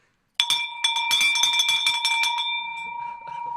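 A bell rings out loudly at a lively auction-style wholesale challenge, its sustained metallic tones holding steady for several seconds while rapid clattering strikes and background commotion sound around it, then a lingering ring continues as the activity fades.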